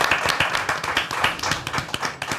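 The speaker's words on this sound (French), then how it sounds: "on peut les applaudir" Applause and clapping from a small studio audience on a French talk show, welcoming guests; dense, steady patter of many hands throughout, fairly close and moderately loud, with no clear speech over it.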